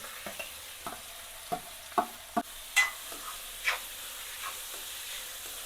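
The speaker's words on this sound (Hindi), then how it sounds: "अभी हम पहले प्याज डाल रहे हैं, उसके साथ मिर्ची" Onion and green chili frying in a pan while being stirred for wheat-flour momo filling, with a soft background sizzle and a handful of sharp scraping spoon clicks spaced irregularly.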